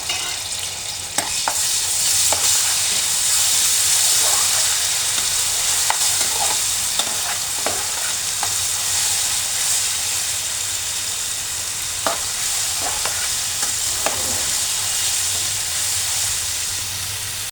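Ginger and garlic paste fries in a pan for chicken noodles, giving a continuous bright sizzle with occasional scraping clicks of a spatula stirring, loud and close with no voices.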